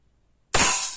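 One sharp, snappy burst from an Artemis CP2 4.5mm CO2 air pistol, sudden and fairly loud after silence, with a brief hissy tail.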